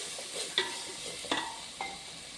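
Carrots stirred and sautéing in a pan for vegetable biryani, a soft steady sizzle with three sharp spoon scrapes spaced through the short stretch, close and moderately loud.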